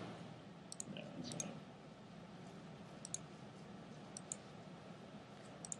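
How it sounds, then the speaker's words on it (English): Computer mouse clicks, roughly half a dozen quiet, sharp clicks spaced irregularly over a faint room hum. "Sorry, clicking around on things."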